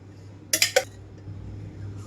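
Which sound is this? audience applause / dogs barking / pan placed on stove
pan placed on stove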